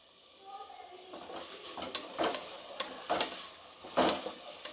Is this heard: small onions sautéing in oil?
yes